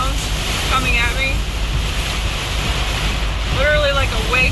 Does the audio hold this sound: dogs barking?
no